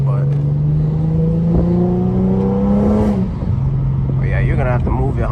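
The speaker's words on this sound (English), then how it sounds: "that downshifting be burning gas" An Infiniti G37 engine revs hard close up, its tone climbing steadily, then drops sharply on a downshift and settles back into a loud, steady drone.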